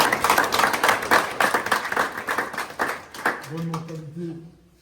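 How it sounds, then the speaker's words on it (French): Members of an amateur football club clap for a young teammate on match day, a brisk burst of close, crackling applause that thins out after about three seconds before a voice starts talking. "On va l'applaudir aujourd'hui"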